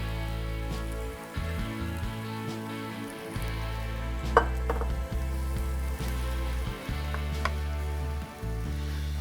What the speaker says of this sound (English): add the potato in as our thickening agent, and then deglaze the pan with some red wine